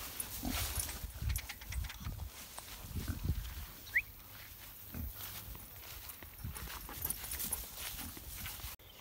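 A dog moves about outdoors with scuffling footsteps and low huffing sounds, fairly near, over a steady background hum.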